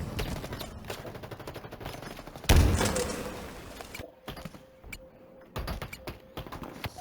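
Gunfire in the video game Halo Infinite, a dense burst of shots with a loud blast near the middle and more rapid firing after it, heard close and alone.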